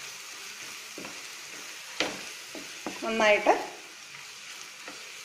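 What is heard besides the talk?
sautéing masala in a pan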